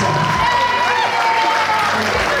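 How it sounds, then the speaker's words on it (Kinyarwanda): Congregation applauding inside a church, a steady wash of many hands clapping that carries through the whole stretch, loud and dense, with faint voices mixed in beneath. "Amashyi menshi cyane."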